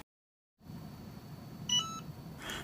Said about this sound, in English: The Cricut beeps when it's hot enough